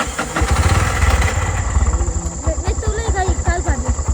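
An auto rickshaw engine starts and settles into a loud, chugging idle close by, its steady putter running throughout while people talk over it.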